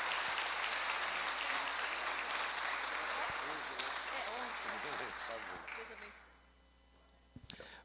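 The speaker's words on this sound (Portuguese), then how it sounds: "a salva de palmas para o Senhor" A church congregation claps for a sustained round of applause, dense and loud at first, then thinning and fading out, with a few voices murmuring near the end.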